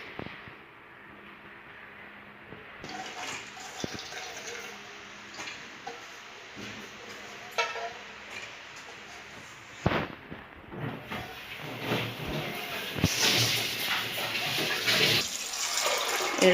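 Water poured over soaked black chickpeas in a pressure cooker makes a soft, continuous splashing and trickle, close and fairly quiet, growing fuller toward the end with a few clunks of the pot.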